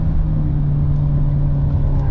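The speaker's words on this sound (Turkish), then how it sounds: "Bak direksiyonum dönük ve araba çekiyor kendini hızlanıyor yani." A 2022 Seat Ibiza FR accelerating, its engine giving a loud, steady mid-pitched drone and rumble heard from inside the car, with no talking.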